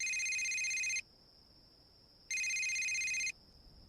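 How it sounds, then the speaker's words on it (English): A cell phone rings in two long electronic bursts separated by a pause, each loud and clear over a faint steady tone, with no voices. "Suddenly, Tim's cell phone rings."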